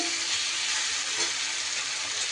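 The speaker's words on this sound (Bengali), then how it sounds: "এইভাবে দেখুন সুন্দর করে মশলা আমার কষানো হয়ে গেছে" Spice paste is frying in a pan with a steady, close sizzle and hiss that holds at an even level throughout, with no voices.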